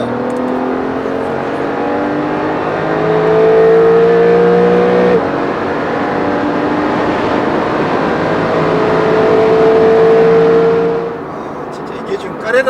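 A Porsche 911 Carrera of the 991 Mk2 generation, heard from inside while driving, with a steady engine drone whose pitch climbs and holds under acceleration, loud and continuous before easing near the end.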